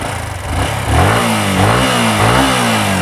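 A secondhand RN5 V2 dirt bike engine, heard up close as a rough idle that rises into a few quick throttle revs with climbing, falling pitch, loud and alone.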